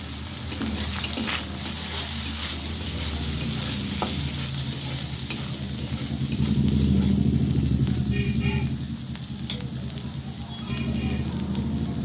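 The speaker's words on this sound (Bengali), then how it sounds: "মশলাটা আমার খুব ভালোভাবে ভাজা হয়ে গেছে।" Ground cumin, coriander and turmeric fry with tomato paste in a pan, a dense continuous sizzle close by with frequent stirring clatters and a louder hissing swell midway, under faint background noise.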